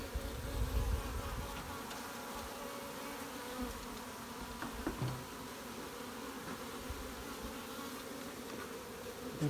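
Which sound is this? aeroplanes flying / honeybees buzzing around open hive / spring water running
honeybees buzzing around open hive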